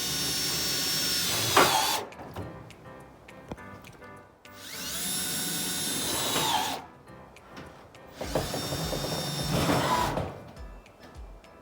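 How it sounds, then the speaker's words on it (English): A power drill drives screws into a metal-sided raised garden box in three long, high-pitched whirring bursts separated by short pauses, close and loud, with the motor pitch dipping as it bites. "this power drill, works really well when you give it a little muscle and speed."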